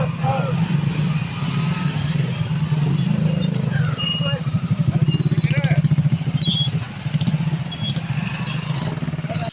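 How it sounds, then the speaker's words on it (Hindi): Motorcycles in a police tricolour bike rally rumble and rev together in a loud, continuous engine roar, with a voice talking over the traffic noise. "तिरंगा अभियान के तहत तिरंगा बाइक रैली निकाली गई है।"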